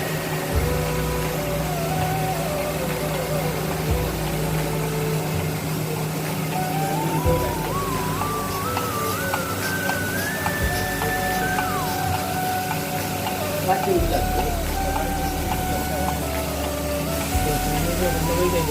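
A milking machine drawing milk from a cow hums and pumps steadily, its low pulsing rhythm repeating every few seconds with a mechanical drone above it.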